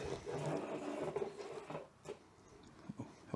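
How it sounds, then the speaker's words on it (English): A magnet scrapes along a garage wall while hunting for studs, giving a continuous close rasping rub that fades, followed by a few soft scuffs. "Rub it along the wall until it grabs."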